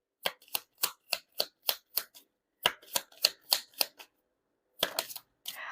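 Deck of tarot cards being shuffled by hand, a run of crisp, evenly spaced riffling snaps, a short pause, another burst, then a final longer ruffle, close and quiet with no talk.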